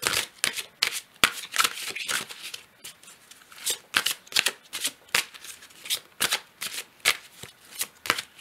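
Oracle cards being shuffled and drawn by hand, a quick series of crisp riffling snaps and papery flicks in an irregular rhythm, close and fairly quiet, with no talking.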